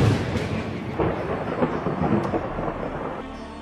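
Thunder from lightning bolts in an anime battle scene, a continuous loud, crackling rumble with a dense rain-like hiss throughout and no voices.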